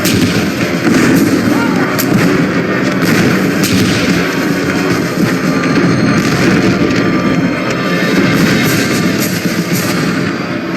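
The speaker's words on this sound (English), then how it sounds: "artillery, some 160 cannon, burst into thunderous action" A Gettysburg artillery barrage from some 160 cannon roars as a loud, continuous rumble, with repeated booms and blasts layered densely without a break.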